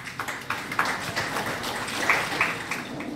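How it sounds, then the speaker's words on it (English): Seminar audience applauding as a guest speaker is welcomed, a steady spread of many hands clapping at moderate level, fairly even without a strong rhythm, no voices over it. "A round of applause, please"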